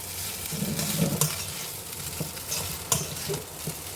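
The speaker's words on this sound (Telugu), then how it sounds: "ఈ నూడిల్స్ వేసుకొని కలపాలి" A spoon stirs egg noodles through a hot frying pan for a street-style dish, close scraping strokes over a steady sizzle with no talking.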